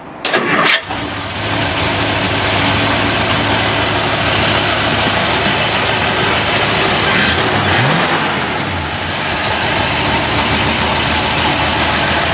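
A 1957 Dodge D100 pickup truck engine cranks and starts, then runs steadily at a loud, close idle with a brief rev partway through, with no talk over it.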